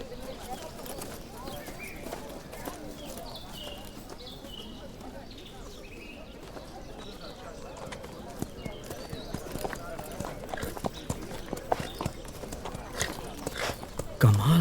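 A horse clip-clops along at a steady, moderate pace, hooves fairly distinct under ongoing speech, with faint birdsong in the background.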